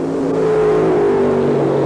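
The Hawaiian drag racing car, driven by Ron Colson on a single run at the 1978 NHRA US Nationals, holds a loud, steady engine drone that stays fairly even throughout.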